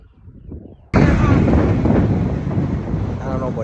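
A loud vehicle with a rough engine driving past near the Royal Gorge Bridge, a sudden roaring, blustery burst that stays loud and wind-buffeted to the end.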